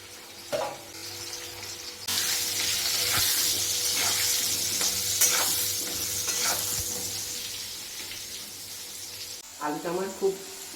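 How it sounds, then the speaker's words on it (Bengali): Potatoes fry in hot oil with turmeric and salt, a loud steady sizzle broken by repeated stirring scrapes in the pan, with a brief burst of talking near the end. "তেলটা গরম হয়ে গেছে, ভালো করে আলুটা ভেজে নিচ্ছি।"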